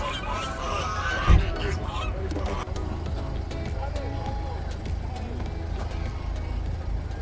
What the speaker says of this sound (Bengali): এই পাথরের চরে কতগুলো হাঁস দেখা যাচ্ছে, রাজহাঁস।